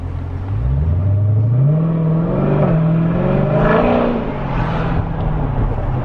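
A Dodge Challenger Scatpack 392 fitted with DynoMax Race Bullet exhaust revs up in a rising, throaty sweep, eases off, then climbs again, heard from inside the car with a steady road drone underneath.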